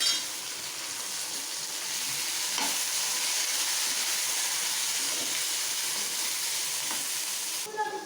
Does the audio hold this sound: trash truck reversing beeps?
no